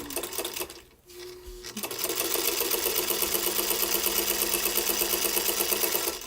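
A Singer Featherweight sewing machine stitches fabric strips in a steady, rapid mechanical whirr with fast rhythmic clatter, close and alone after a brief pause and a few soft handling sounds at the start.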